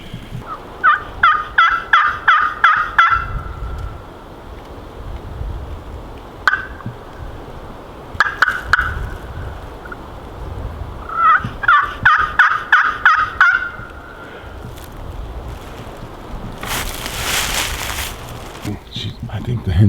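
Wild turkey gobbling during a Georgia opening-day turkey hunt: two loud, rapid rattling gobbles a few seconds apart, with a couple of short single calls between them and a burst of rustling noise near the end.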